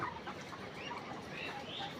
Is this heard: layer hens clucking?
yes